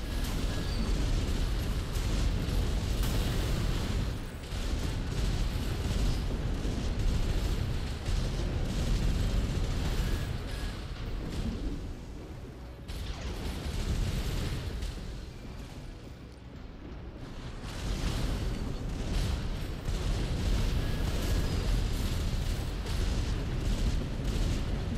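Napalm explosions and mech combat in the video game Armored Core 6, a dense, loud, continuous rumble of blasts and fiery roaring with brief dips in intensity, sustained throughout.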